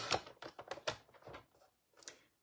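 Paper being cut for a flip-top gift box with a trimmer, a series of quick, close scraping slices and rustles with short pauses between, no talking.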